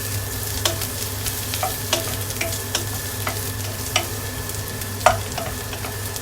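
Chopped garlic frying in hot cooking oil in a pan, a close, steady sizzle broken by sharp clicks and scrapes of a spatula stirring, with no voices.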